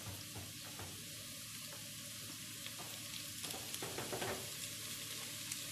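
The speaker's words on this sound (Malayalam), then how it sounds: "ഫ്രൈ ചെയ്ത എണ്ണ തന്നെയാണ് ഉള്ളി വഴറ്റാനും നമ്മളിതിലേക്ക് എടുക്കുന്നത്" Four medium onions fry in oil that was already used for frying, while a quail biryani is being made. A steady loud hiss and sizzle runs throughout, with a few stirring scrapes and bubbling pops.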